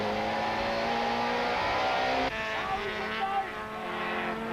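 Onboard sound of a BMW super touring race car at a 1995 race at Aldo Scribante, its engine droning steadily at high revs and close by, with a brief pitch drop partway through as it shifts or lifts.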